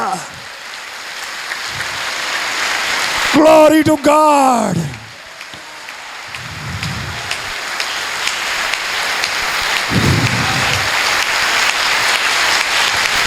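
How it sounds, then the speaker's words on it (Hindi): A church congregation claps loudly and steadily, a dense wash of applause that carries on throughout while a voice briefly calls out over it. "बाइबल मुकद्दस के लिए जोरदार तालियां"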